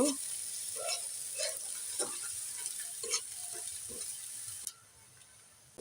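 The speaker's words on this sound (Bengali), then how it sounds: "এখন শুধু পেঁয়াজ আর রসুন দিয়ে বাগার দেব।" Onion and garlic sizzle in hot oil as a tempering for liver bhuna, a soft, steady frying hiss with occasional stirring clinks, fairly quiet, cutting off near the end.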